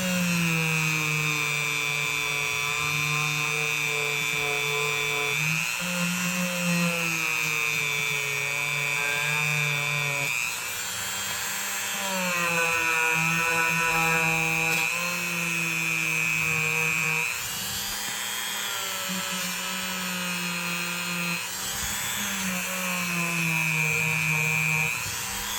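A vintage Imperial Ireland Kamp King camp knife is polished on a power buffer, giving a continuous loud motor whine whose pitch dips and shifts as the blade is pressed against the wheel, with no one talking.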